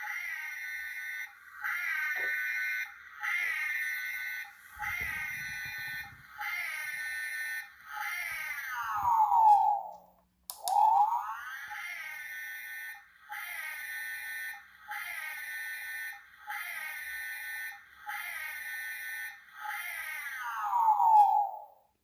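Electronic sound effect from a Playmobil toy vehicle in the space and Ghostbusters range: repeated warbling siren-like tones in short bursts, each series ending in a falling sweep, played twice with brief pauses between bursts.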